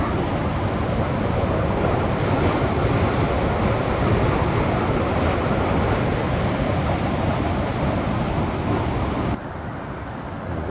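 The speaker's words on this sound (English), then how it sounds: "Water going over that bridge." Floodwater from an 18-foot surge in Maine pours over and under a bridge as a steady, loud, dense roar of rushing water. It runs on unbroken and drops slightly in level near the end, with no talking.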